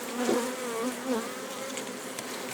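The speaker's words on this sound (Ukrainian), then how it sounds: "Приїхав до бджіл." Honeybees buzzing at the hives of a traditional log apiary, a close, dense droning hum with wavering pitch as individual bees pass near, steady throughout with no speech.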